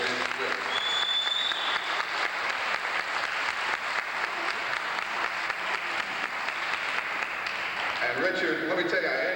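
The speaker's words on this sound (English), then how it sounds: "I think they deserve a round of applause for what they did." An audience claps steadily in a dense, sustained round of applause, with voices talking faintly over it toward the end.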